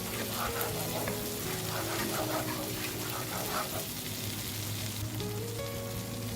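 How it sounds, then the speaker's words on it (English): Chili and tamarind paste frying with coconut milk for a sambal gives a continuous close sizzle with bubbling, stirred now and then, with a faint tonal background hum and no speech. "Fry the chili and tamarind paste for 1 minute. Add 1 tablespoon of coconut milk and stir to combine."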